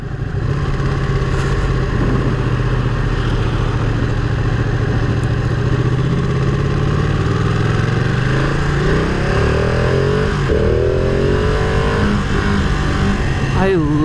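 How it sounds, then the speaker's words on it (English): Exhaust note of a superbike (Ducati 959 Panigale or Ninja ZX10R) at speed on an open road, a loud steady engine drone with wind rush and a rising, sweeping pitch change near the end. "I love the exhaust note."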